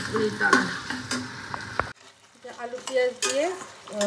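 Potatoes, onions and green chillies frying for chowmein, with a steady sizzle and stirring clatter; an abrupt drop midway leaves a quieter, uneven sizzle with scraping.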